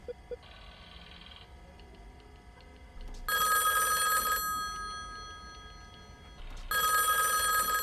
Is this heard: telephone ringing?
yes